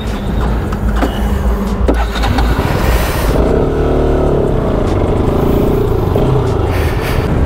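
Car tyre burnout on a hot road with a worn but not yet burst tyre, a loud sustained roar of revving engine and screeching, scraping rubber, continuous and close throughout.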